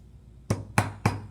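Three sharp, evenly spaced metallic knocks as a hammer drives a big-headed roofing nail through a bottle cap resting on a wooden board, close up and loud, with no voices.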